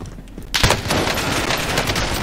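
Sniper fire in a shooter video game comes as a sudden loud burst of rapid gunfire that keeps crackling densely to the end.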